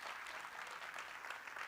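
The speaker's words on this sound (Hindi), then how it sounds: "एक बार जोरदार तालियां हो जाए" An audience at a preschool annual event claps together in steady, even applause, soft and somewhat distant, lasting a couple of seconds.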